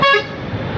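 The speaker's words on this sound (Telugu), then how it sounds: "వెనకాల లారీ అరిపిస్తూ ఉన్నాడు." A lorry behind on a town road in Madanapalle sounds its horn in one short, loud, bright honk heard close by, followed by road rumble.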